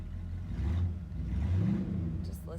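A 1946 Chevrolet Coupe with an automatic transmission accelerates while driving, its engine giving a low, rumbling drone that rises and falls in pitch, heard from inside the car at moderate volume.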